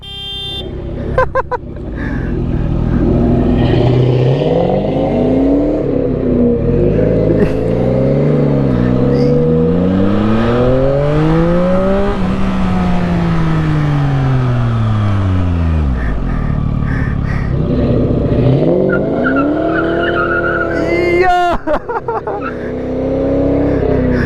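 A 2023 Yamaha MT-09 SP motorcycle fitted with aftermarket headers revs and accelerates loudly up close, its engine pitch sweeping up and down through several long pulls before a brief sharp burst near the end.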